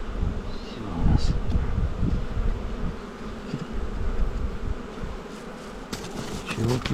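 A hive of honeybees droning steadily on a warm day, a dense low hum with a few louder passes of individual bees close by.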